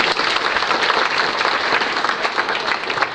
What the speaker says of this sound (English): I'd invite everyone to join me in giving a round of applause to our chief guest